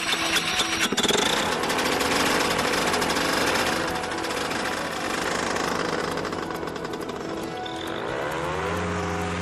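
Powered paraglider motor, a 40 kg backpack unit producing 28 horsepower, running loud and steady with a rapid buzzing, rattling drone close by throughout, a brief voice at the end.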